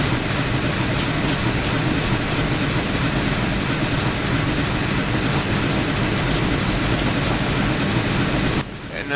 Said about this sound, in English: And now the throttle's fully open